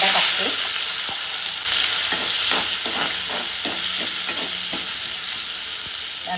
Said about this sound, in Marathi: त्याच्यामध्ये कांदा टाकते